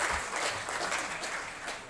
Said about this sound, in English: extra round of applause to Mr. Gautam Chikarmane